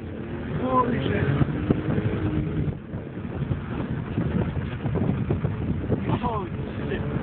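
A BMW M3 E46 accelerating, its engine droning and climbing in pitch through a couple of rising sweeps, heard from inside the car under heavy wind noise, with people talking over it.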